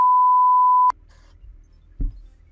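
Censor beep: a single steady electronic sine tone lasting just under a second, cutting off abruptly into quiet room noise with a faint thump afterward.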